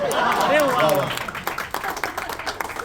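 An audience claps in a burst of applause at a Marathi film promotion event, the clapping trailing into scattered claps after a few seconds, with a voice speaking at the start.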